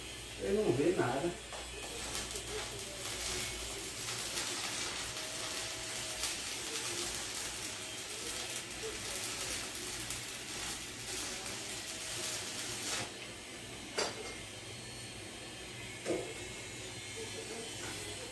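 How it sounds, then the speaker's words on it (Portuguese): Arc welding with a standard 63 electrode in a workshop, a continuous crackling hiss and buzz for most of the clip with a thump at the start and a few short knocks near the end. "Estamos soldando, ó. O eletrodo 63 mesmo normal, certo?"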